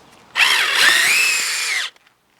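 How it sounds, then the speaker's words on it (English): Power drill driving screws through door hinges into a wooden door frame while building a screen door; a single steady whirring burst of about a second and a half, close and loud, with no talk. "Now I just need to screw the hinges into the door frame."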